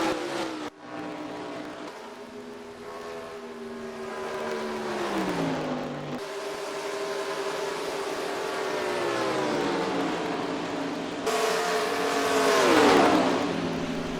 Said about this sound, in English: More cars coming out of pit road to 3 and 14.